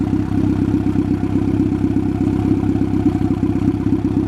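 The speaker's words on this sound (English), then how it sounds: "Engine sounds great." A Honda Civic engine with a small intercooler idles steadily with a low, even rumble and fine mechanical clatter, loud and close, no voices.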